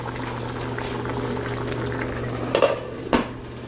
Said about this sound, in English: Now again I am going to close this pan